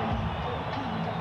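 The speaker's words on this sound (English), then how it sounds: "It's not an overwhelming cheer, but it's certainly in Tyson's favor" Boxing arena crowd cheering for Mike Tyson as he enters the ring to face Orlin Norris, a steady, loud roar of many voices with no distinct breaks, filling the whole moment.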